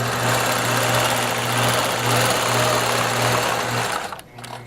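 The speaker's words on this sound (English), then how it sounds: "And continue stitching down my border." Sewing machine stitching down a quilt border, running at a steady, even buzz close by for about four seconds, then stopping.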